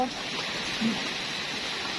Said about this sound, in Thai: วันนี้บรรยากาศฝนตกฝนตกหนักมากเลยนะคะ